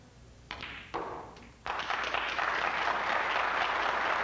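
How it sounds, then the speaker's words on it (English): A few sharp snooker-ball knocks and taps at a 1988 match, then a burst of audience applause breaks out as the pink is potted and swells into steady, sustained clapping. "Burst of applause as that pink disappears"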